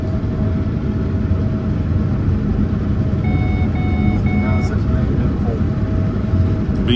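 A combine harvester in a wheat field signals that its grain tank is full with a short run of repeated high electronic beeps over a steady engine drone, while a person talks nearby.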